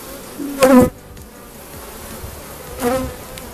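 Honey bees buzz around an open hive during a summer colony inspection, with two louder close passes rising above a continuous low droning hum.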